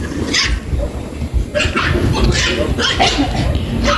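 Dogs barking and yipping in short bursts over a noisy outdoor background at a house under construction, moderately close.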